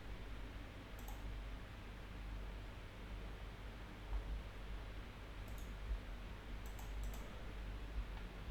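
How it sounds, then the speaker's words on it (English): Keyboard typing, a soft run of small clicks and taps under a steady hiss, with a few sharper isolated clicks scattered through. "You're typing."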